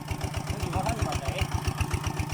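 A walk-behind tractor engine runs while ridging a cassava field, its low, rapid chugging pulse holding steady and close as voices talk over it.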